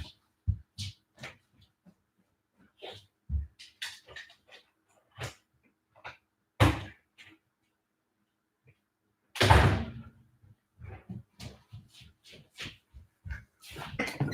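A door opens to let a dog out indoors: scattered knocks and thumps, one louder bang around the middle, and a few faint dog whimpers, with long quiet gaps between the sounds.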